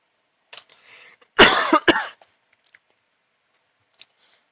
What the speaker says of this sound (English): coughing a lot.